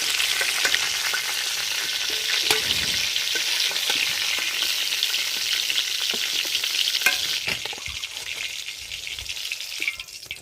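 Fried pointed gourd pieces being lifted from hot oil in a pan, a steady bright sizzle running throughout with occasional scraping and stirring knocks, easing slightly toward the end.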